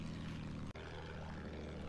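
Propeller plane engine in Battlefield 1, a steady loud droning hum with strong low harmonics held throughout, briefly cutting out for an instant partway before resuming.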